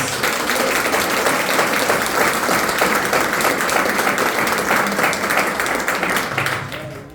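A congregation at a religious retreat applauds the word of God, a loud, dense and sustained clapping from many hands that carries on for several seconds before fading at the end.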